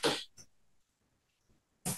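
A child fakes a sneeze, producing a short sharp burst, followed by a smaller puff and a second loud burst near the end, close and fairly loud with quiet gaps between.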